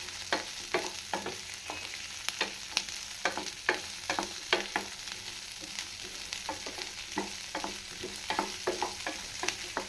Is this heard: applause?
no